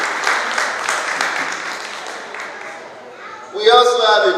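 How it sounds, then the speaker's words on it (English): Audience applause at a Yoruba Day 2018 community event, a steady wash of clapping for a prize donor that fades, then gives way to a voice speaking near the end. "Can we give him a round of applause, please?"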